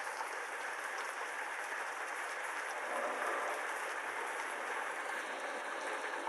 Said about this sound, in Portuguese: Ótimo, está trovejando.